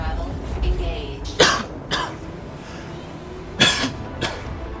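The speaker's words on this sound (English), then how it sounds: "Oh, I just coughed in your guys' ears." A few sharp coughs into a close headset microphone during an online space-flight game session, two main bursts with smaller throat-clearing hacks after, over a low background hum.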